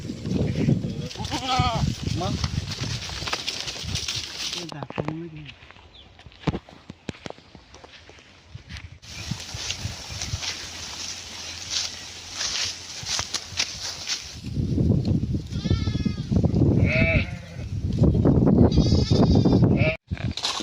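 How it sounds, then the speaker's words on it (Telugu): A flock of sheep bleats repeatedly and close by in hot summer grazing country, with overlapping calls in bursts, some soft footsteps, and a voice speaking between the bleats. "సో గైస్, ఇగో ఇవే గొర్రె,"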